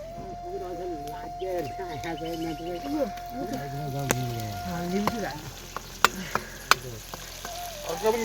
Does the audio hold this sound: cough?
no